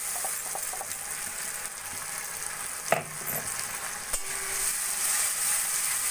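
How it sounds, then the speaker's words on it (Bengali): Tomato and cashew spice paste sizzling in hot oil in a pan while being stirred, a steady close frying hiss with a few scraping clinks of the spoon. "এবার ভালো করে মশলাটা বেশ কষা কষা করে নেব।"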